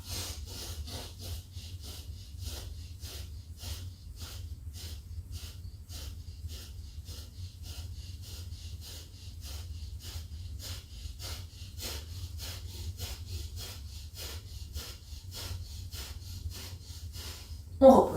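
Forceful rhythmic pranayama breathing during a vinyasa yoga session: a steady series of sharp nasal exhalations, repeated roughly twice per second and heard close up throughout, with a brief voice at the very end.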